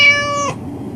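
A single short, clear cat meow played as a sound effect, loud and close, rising then cut off after half a second, followed by quiet room tone.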